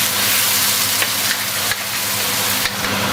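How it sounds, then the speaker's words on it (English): Bumbu spice paste fries in a hot pan while being stirred, a loud, dense, continuous sizzle close by, broken by a few faint scrapes of the spoon, with no talking. "So I've just added my bumbu and I'm going to give it a good stir."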